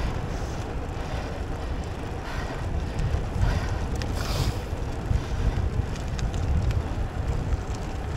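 Strong wind buffets the microphone in a continuous low rumble, with gusty swells and faint water-like hiss, no clear talk.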